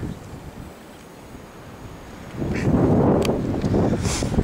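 Strong wind whips across the mic in the aftermath of the Great Blizzard of 2011, a faint background hiss that turns into a loud, gusty roar partway through.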